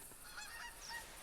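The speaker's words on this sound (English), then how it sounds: "We're going to see if we can't take out these geese here as soon as they circle around." Geese in the hunting game Call of the Wild honking repeatedly, a scattered flock of nasal calls at a moderate distance, faint and alone with no talk.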